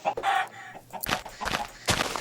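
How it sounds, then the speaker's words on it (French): Minecraft chickens give short clucking calls, a few separate bursts spread over two seconds with brief gaps between them, loud and close, with no talk. "On va tuer des poules."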